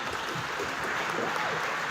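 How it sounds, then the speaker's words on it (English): Applause from an audience at a governing body inauguration ceremony, following a lion dance troupe performance. Steady, dense clapping is heard throughout, fairly distant and even. "Another big round of applause, family."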